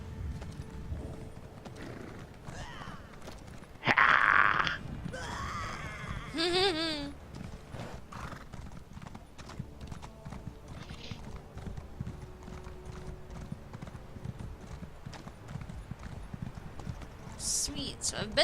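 Horse hooves clip-clop in The Elder Scrolls Online, with a sharp neigh partway through, under ongoing talk and game background sound.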